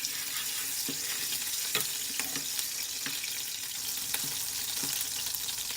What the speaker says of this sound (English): My garlic is burning.